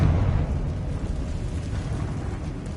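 A blasting-spell explosion in a Harry Potter video game: a low booming burst that hits at once and rumbles on as a heavy, fading roar for a few seconds, with no voices over it.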